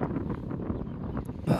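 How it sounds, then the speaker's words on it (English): Outdoor wind buffets the microphone in a park, a low, blustery rumble that gusts unevenly throughout the short stretch, loud and close. "You're probably gonna hear a lot of wind."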